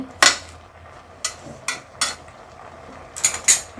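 Spinach being turned over in a cooking pot with a spatula for palak paneer: a handful of sharp metallic scrapes and clinks come in separate bursts, close and fairly loud, with quiet gaps between them.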